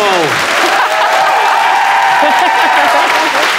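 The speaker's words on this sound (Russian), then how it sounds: "Аплодисменты!" Studio audience applause greeting a guest on a Russian television show, loud and dense throughout, with voices mixed into the clapping.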